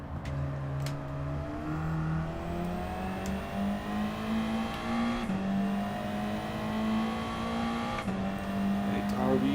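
A front-wheel-drive Group 4 race car in Gran Turismo 7 on Grand Valley Highway revs steadily through rising gears, its engine drone climbing and shifting repeatedly, loud and continuous throughout.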